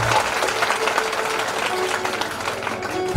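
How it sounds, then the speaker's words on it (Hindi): Audience applause at a Bhagavat Katha religious gathering, a steady crowd of hands clapping continuously and fairly close throughout. "ताली बजाइए"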